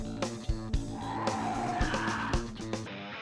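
A police squad car colliding with a truck, heard from inside the car: engine drone with tire skidding and several sharp impact thumps and knocks over a few seconds, no speech.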